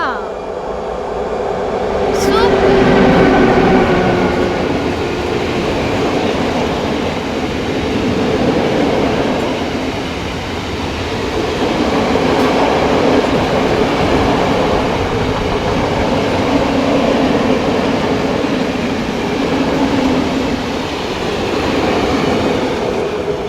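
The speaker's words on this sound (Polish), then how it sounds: "I jakiś towarowy jedzie. O, ET22." A freight train hauled by an ET22 electric locomotive rolls past at close range at sunset, a steady loud rumble of wagons with rhythmic wheel clatter lasting the whole stretch, while someone speaks briefly over it.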